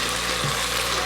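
Onions frying in a pan while being browned for a cauliflower and potato dish, a steady broadband sizzle that stays even and fairly loud for about a second with no talking.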